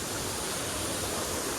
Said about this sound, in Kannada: ನೀರು ಹೆಂಗೆ ಬೀಳದ ನೋಡ್ರಿ ಇಂದ ಬ್ಯಾಸ್ಗ್ಯಾಗ